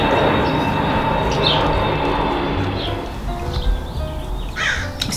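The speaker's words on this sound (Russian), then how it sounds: "Ворона напоминает." A crow caws outdoors in a residential courtyard, a few separate calls spaced over a steady low rumble of background noise, with no talk.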